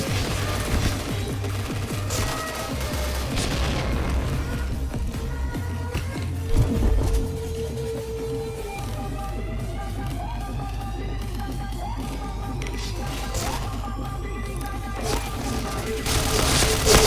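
Grenade blasts and rapid gunfire sound from the online shooter Point Blank, with bursts of automatic fire, booms and impact crashes layered over game effects and occasional shouted callouts throughout.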